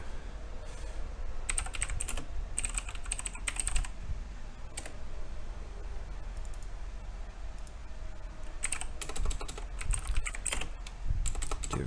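A computer keyboard clatters close by as a file name is typed, coming in quick bursts of keystrokes separated by short pauses, over a low steady background hum and without speech.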